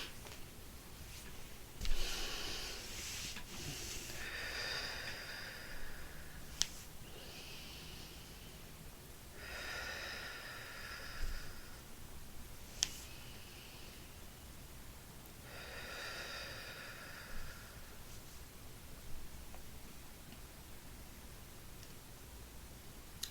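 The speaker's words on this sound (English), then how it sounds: "I'd like to just take some breaths." Three slow, deep breaths in and out, each a soft airy rush lasting a few seconds, spaced evenly apart and close to the microphone in a quiet room, with no talking.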